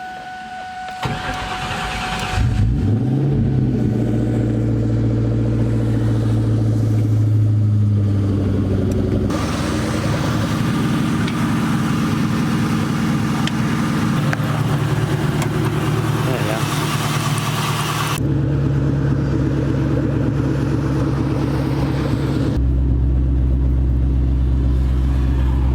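A Ford Mustang Terminator Cobra engine cranks and catches, then settles into a loud, steady idle that stays close and continuous while warming up, its tone shifting a few times as revs change.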